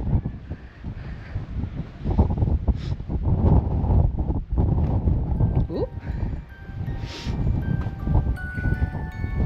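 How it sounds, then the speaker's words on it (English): Wind gusts down a tunnel at Coldstones Cut in Nidderdale, a loud, rumbling buffeting roar against the microphone that swells and eases throughout, while people talk over it. "it's windy down this tunnel."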